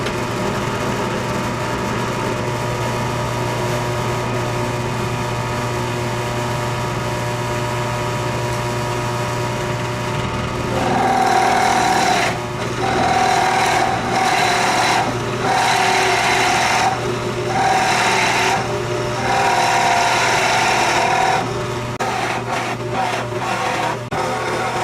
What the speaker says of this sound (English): So now I got 6 holes to drill.